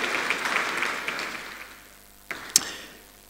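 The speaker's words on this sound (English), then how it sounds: "Please give IAM a round of applause here" Audience applause at a Nigerian agro-industrial zone launch event, a moderate round of clapping that fades out, followed by two sharp isolated knocks near the end.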